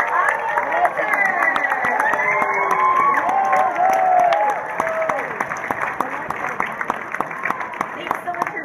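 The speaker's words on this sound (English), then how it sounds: "let's have another big round of applause for David Arquette, Gunn, and Ariel Winter." Studio audience claps and cheers for David Arquette, Tim Gunn and Ariel Winter at a Disney Junior live book reading, steady clapping with shouts and whoops, then thinning out.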